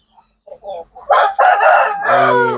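A rooster crows loud and close, starting with a few short clucking notes that break into a full drawn-out cock-a-doodle-doo call.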